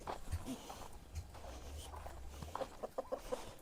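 Native Jawari country chickens and roosters on a farm in the evening, giving soft, scattered clucks that become a quicker run of short, repeated clucks near the end.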